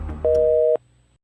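A single steady telephone busy tone sounds loudly for about half a second after a faint murmur, as an unanswered call fails to connect; low background noise fades out afterwards.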